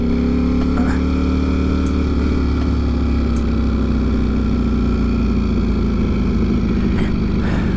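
A Ducati Panigale V4R motorcycle engine runs with a loud, steady low rumble and throb, holding a fairly even pitch close by throughout, with no talk heard.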